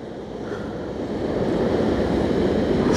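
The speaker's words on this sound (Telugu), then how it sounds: "అలలు ఆ అలలు శబ్దాలు" Ocean waves break steadily on Vizag beach in Visakhapatnam, along the beach road near Tenneti Park, a continuous rushing surf that builds slightly louder, with wind buffeting the microphone.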